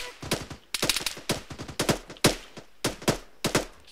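Enemy machine gun fire in the Arma 3 video game, delivered in repeated sharp bursts of rapid shots with short gaps between volleys, fairly loud and close, with no talk over it.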